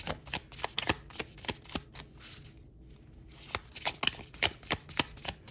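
Tarot cards shuffled in quick bursts of crisp riffling snaps and flicks, close and fairly loud, with a brief pause in the middle and no talking.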